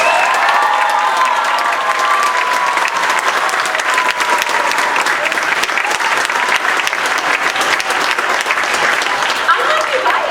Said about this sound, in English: You can give them the loudest round of applause